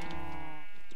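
A single close, loud sheep bleat from Minecraft, one drawn-out wavering call heard alone.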